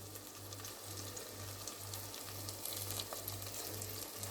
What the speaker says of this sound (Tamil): சேர்த்துட்டு கொஞ்சம் நேரம் வதக்கிக்கலாம்.